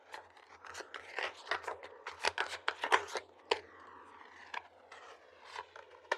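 Tarot cards handled and shuffled during a reading, giving a run of crisp riffling, snapping and papery flicks at close range, with a faint low hum underneath.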